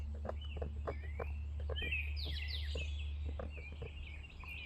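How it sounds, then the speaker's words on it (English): Birds tweet and call in a neighborhood in the morning, with short, faint chirps and higher twittering trills over a steady low hum. No one speaks. "Just hearing some birds tweet and some birds talk."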